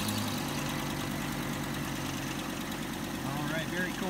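Chevrolet Colorado/GMC Canyon pickup engine running at a steady, rumbling idle after a valve cover and gasket replacement, a low continuous drone heard close up with faint voice-like sounds near the end.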